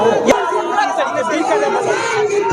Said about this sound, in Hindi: आप देख सकते हैं ललन सिंह जिंदाबाद जिंदाबाद का नारा लगा रहे हैं